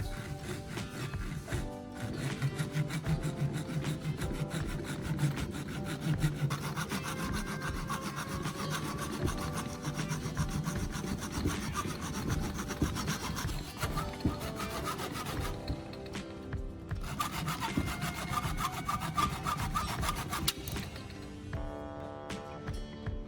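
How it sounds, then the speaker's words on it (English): A handsaw works through the bottom of an old plastic lighter in a steady back-and-forth rasp, close and continuous for most of the stretch with brief pauses near the end. "Cutting off the lighter's bottom with a handsaw is the only option I've got right now."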